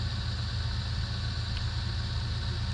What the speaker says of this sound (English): I'm warming up my wife's car